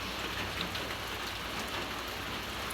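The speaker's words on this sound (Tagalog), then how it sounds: "Grabe ang ulan." Steady, dense rain pouring down with a constant hiss, unbroken from start to finish.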